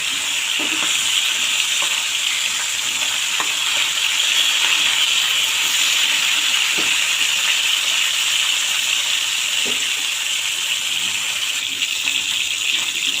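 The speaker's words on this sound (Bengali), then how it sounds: "মাছগুলোকে আমি উল্টে পাল্টে ভেজে নেব" Steady, loud sizzling of climbing perch (koi) fish frying in hot oil, continuous hiss with occasional crackles and pops, no voices.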